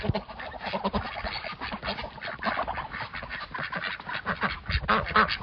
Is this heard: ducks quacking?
yes